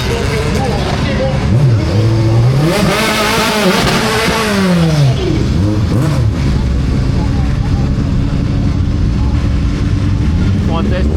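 A Dallara 308 Evo race car accelerates hard at a hill climb, its engine note rising and falling through rapid gear changes, loud and close, then settling into a sustained drone while a commentator talks over it.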